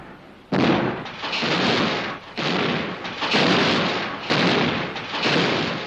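A French warship's naval turret gun fires a rapid series of heavy blasts, around six booming reports in irregular succession, each with a broad roaring tail that decays before the next.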